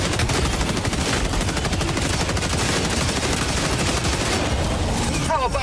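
An autocannon fires in the video game Helldivers 2 as a loud, continuous stream of heavy, rapid shots that stays dense and steady throughout, with little space between rounds.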